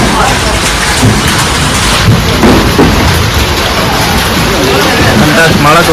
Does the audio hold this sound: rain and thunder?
yes